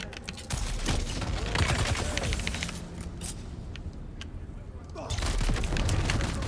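Rapid gunfire from the video game Dune: Awakening crackles in dense bursts with impacts and mechanical clatter, continuous and loud across most of the clip.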